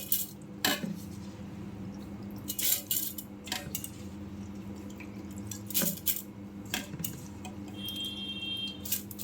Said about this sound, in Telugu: ఎనిమిది లోటాలు నీళ్ళు పోసుకోవాలండి.